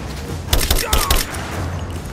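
Gunfire in the video game Rise of the Tomb Raider on PS4, a Soviet installation: a quick burst of several sharp shots over about half a second, over a constant low background rumble.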